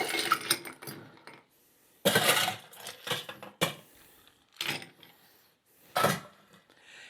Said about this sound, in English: Let's fill this up with ice.